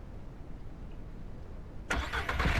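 A vehicle engine starting up in the farming video game Ranch Simulator: after a low background hum, the engine abruptly catches near the end and settles into a loud, rough running rumble.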